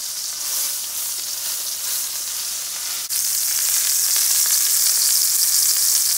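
Steak sizzles in a hot pan, a steady close hiss of frying fat that jumps abruptly louder partway through and keeps crackling, with no voices.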